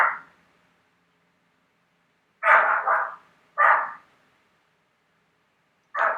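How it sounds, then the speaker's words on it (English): A dog barks in short, separate bursts, one at the start, then two close together after a long quiet gap and one more at the end, heard from a room away and moderately loud against an otherwise silent background. "That's my dog."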